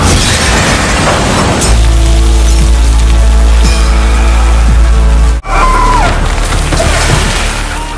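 A car smashes through a glass window in a film scene, loud splintering and crashing over a heavy low rumble, then a brief cutoff before more clattering debris and engine noise.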